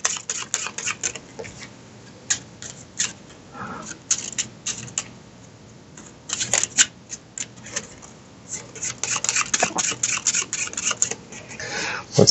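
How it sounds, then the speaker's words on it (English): Cards from a DOOM board game deck are shuffled, giving a run of quick crisp riffling and slapping bursts in irregular clusters, close and fairly faint, with brief pauses between handfuls. "So we have to shuffle this deck."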